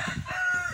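Chickens in a backyard range pen behind a chicken net, a short burst of clucking and rooster-like calls, close and fairly loud with no one talking.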